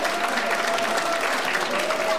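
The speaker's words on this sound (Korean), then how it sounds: "박수 부탁드립니다." Audience at a lawyers' association lecture in Busan breaks into steady, dense applause, a continuous clatter of many hands filling the room, fairly loud and uninterrupted throughout.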